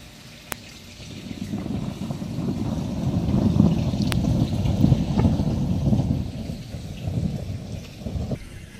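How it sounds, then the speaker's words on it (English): Storm thunder rumbles low and rolling, building to a sustained loud roar in the middle and easing off, with rain and water noise around it and a few sharp clicks; no talking. "big old thunderbolt."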